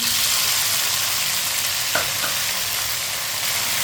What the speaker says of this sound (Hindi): लहसुन को मैंने हल्का सा ब्राउन कर लिया।